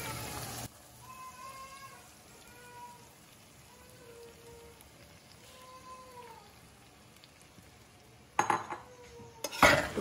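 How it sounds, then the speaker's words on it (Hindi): Sago khichdi being stirred in a pan, a quiet scraping and stirring with soft clinks of a spoon against the metal, then a few louder knocks of utensils near the end. "इसे अच्छी तरह मिक्स कर लेंगे।"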